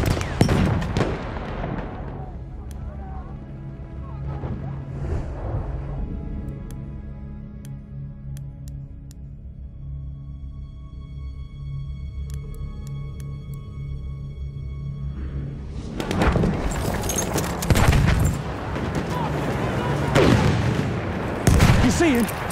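Grenade blasts and bursts of gunfire in a Battlefield 1 battle: loud booming clusters open and close the stretch, with a quieter rumbling lull between and in-game voices calling out over the fighting.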